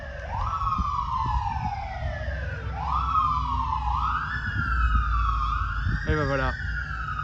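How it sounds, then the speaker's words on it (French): An American fire engine siren wails in rising and falling sweeps, fairly close, with a short burst of rapid yelp or horn near the end, under a rumble of traffic while someone speaks briefly. "c'est les pompiers américains avec 1000 millions de dollars de moyens"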